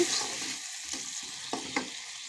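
Sweet gourd is stirred in a frying pan for khichuri, a close sizzle with a few soft scraping strokes of the spoon, and no voices.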